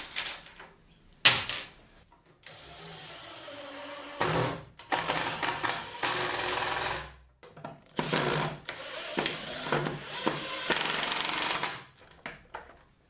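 Power drill driving pocket hole screws into wooden bed slats with a Kreg jig, a series of loud whirring bursts separated by short pauses, close by and with no talking.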